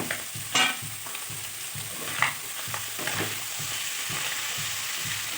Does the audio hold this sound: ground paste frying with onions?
yes